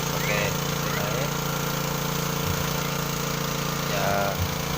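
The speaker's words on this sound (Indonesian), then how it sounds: "ini tanahnya ini disemprot dulu yang ganjal-ganjal ini pakai mesin air" A water pump engine drones loudly and steadily throughout while spraying soil, a constant mechanical rumble with no pauses.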